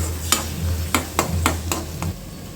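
Beaten eggs stir-fry at high heat in a pan for a chicken dish. A spatula strikes the pan in five sharp, fairly regular knocks over a low steady hum, with no talk.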